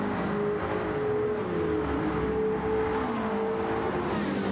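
A race car's engine screams at full throttle in a racing game on a Tokyo circuit, a continuous, loud whining note that climbs and shifts pitch as it powers toward the finish line.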